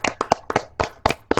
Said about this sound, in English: can everybody give a round of applause for Rick?